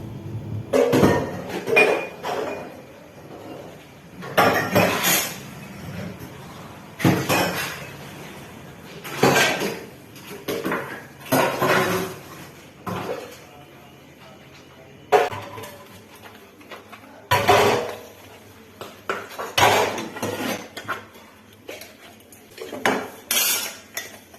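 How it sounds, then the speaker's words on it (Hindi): Dishes, pots and steel utensils being scrubbed and rinsed in a home kitchen sink, with repeated loud clattering and clinking bursts of metal against metal over a steady wash of running water, close and without talk. "अब एक एक करके सारे बर्तनों को अच्छे से मांज लूँगी।"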